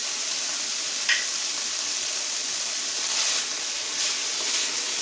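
Ground spices such as smoked paprika, onion powder and garlic powder sizzle and bloom in hot fat in a pan, a steady bright frying hiss with small crackles, no talk.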